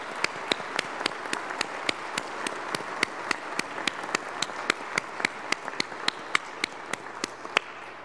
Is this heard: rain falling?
no